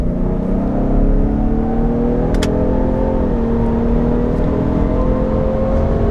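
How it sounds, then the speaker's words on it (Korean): A Ford Explorer 3.0 PHEV plug-in hybrid in sport drive mode accelerates hard, its engine note climbing steadily in a loud, close, continuous rising drone with no talk. "드라이브 모드는 스포트로 놓고 주행을 한번 해보도록 하겠습니다"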